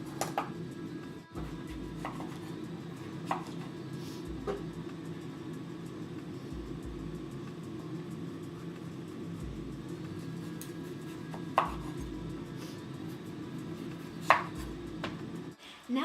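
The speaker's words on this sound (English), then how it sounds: "just take your knife along the edge here and begin to cut off" Knife peeling the skin off a butternut squash on a kitchen counter, giving a few faint scraping cuts and scattered light taps over a low steady background hum.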